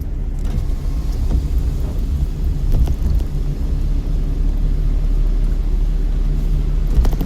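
A car rolls along in third gear, its engine and road rumble a steady, loud low drone heard from inside the cabin, with a few faint knocks and no talk.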